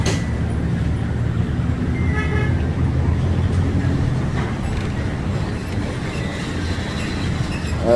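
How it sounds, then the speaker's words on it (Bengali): A train rolling below an elevated road, heard from a bus overhead as a continuous low rumble mixed with road traffic, with a faint tonal toot, steady and moderately loud. "আস্তে আস্তে ট্রেন নিচ দিয়ে চলে যাচ্ছে"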